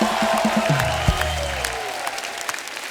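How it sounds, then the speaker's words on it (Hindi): Studio audience applause on a Hindi TV comedy talk show, a broad crowd clapping that carries through the whole stretch at steady loudness, with a brief musical sting and a low thump near the start. "जोरदार तालियां हो जाएं सुधा जी के लिए"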